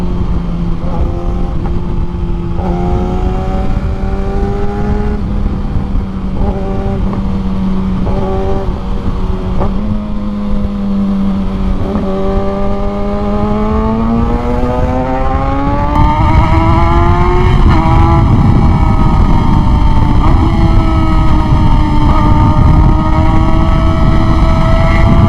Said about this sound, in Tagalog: Ang ingay ng muffler natin.